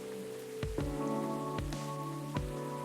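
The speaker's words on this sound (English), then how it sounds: "It's just the rain." Steady rain falls on a surface in the Coffee Talk video game, a constant hiss punctuated by a few sharp louder drips, heard alone over a soft musical backdrop.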